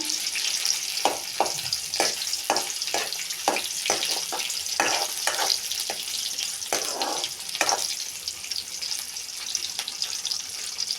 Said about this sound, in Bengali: তেলে দিয়ে দিলাম পেঁয়াজ, দিয়ে দিলাম রসুন